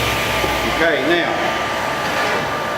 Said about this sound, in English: Turn the dust collector on so you could actually see and hear me talk.